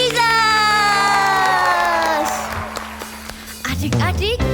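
A crowd of children at a church kids' service cheers and shouts loudly, with a voice carrying over the noise before a fresh burst of excited yelling.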